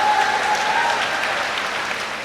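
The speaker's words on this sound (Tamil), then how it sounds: "சினிமா நடிகையோட பேரை சொன்னா என்ன சிறப்பா கைத்தட்டல்" Enthusiastic audience applause fills a Tamil television debate hall, dense and steady throughout with no voices on top.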